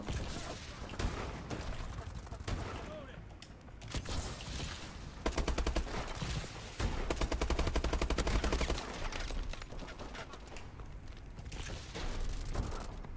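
Rapid gunfire rattles through a team deathmatch shooter match, with dense automatic bursts and scattered shots layered over game noise, loud and steady throughout.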